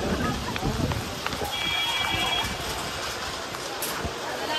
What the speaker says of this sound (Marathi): तर आता पाऊस एकदम जोरात आला आणि एकदम थंड पाऊस आहे इथं